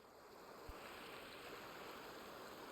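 Steady rushing of a river flowing in the hunting game Way of the Hunter, a continuous broadband wash of water heard alone at low level, with one soft thump.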